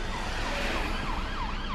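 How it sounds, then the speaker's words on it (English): An ambulance siren wails continuously on a London road, its pitch sweeping up and down over a steady rumble of road traffic, with no voices. "See that ambulance coming shooting."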